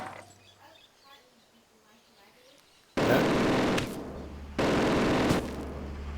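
Gunfire and explosions in Steel Division, a WW2 real-time strategy game: two loud, sustained bursts of battle noise after a quieter stretch, with voices calling out in the background.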